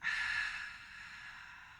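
A single long exhale during Pilates breathing, a soft breathy sigh that starts strong and fades gradually, close and alone.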